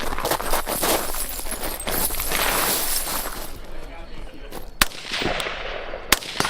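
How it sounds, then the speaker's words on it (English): Handgun shots on a woodland shooting course: a burst of rattling, cracking noise early on, then two sharp, isolated reports later, separated by a short gap, with a person talking in between. "Just some really stupid shots with the handgun that I should have taken my time with."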